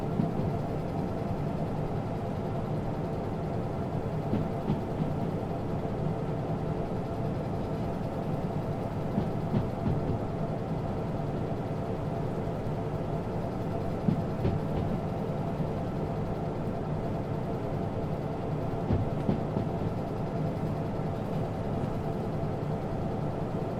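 A DE2 shunter locomotive's engine running steadily in Derail Valley, a continuous low, rumbling drone at moderate level with faint clicks and knocks scattered through, no talking.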